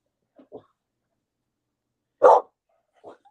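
A dog barks once, loud and sharp, near the middle, with a few faint quieter yips and soft sounds before and after.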